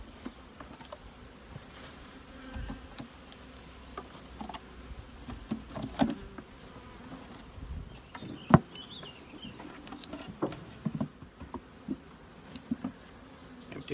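Honey bees buzz faintly around a queen rearing hive, a soft intermittent drone mixed with small taps and handling noises of frames and equipment nearby.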